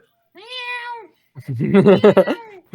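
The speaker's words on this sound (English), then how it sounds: "Is it a cat? You got it right." A cat meows twice: a drawn-out, tonal meow, then after a short pause a louder, choppier meow broken into several pulses, close and clear against a silent background.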